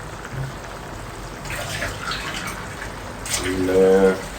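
Water splashes and gushes into a pot for a few seconds, with a brief voice rising near the end.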